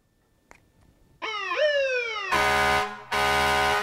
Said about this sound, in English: Now you may have said a police car, but it's actually a fire truck.